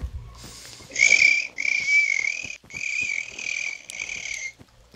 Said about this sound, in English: It's my cricket sounds.